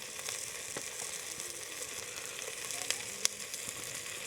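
Food frying with an added spice mix in a pan on a road-trip camp stove, a soft continuous sizzle with faint occasional stirring clicks, fairly quiet and steady throughout.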